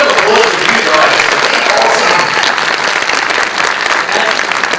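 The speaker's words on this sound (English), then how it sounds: "Round of applause for you guys." A theatre audience at a Brisbane film Q&A evening bursts into loud, dense applause that holds steady throughout, with some crowd noise mixed into the clapping.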